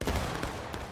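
A ceremonial rifle volley fired on command at a reenactment event sounds as one loud, dense blast with a ragged tail of overlapping shots, heard close by.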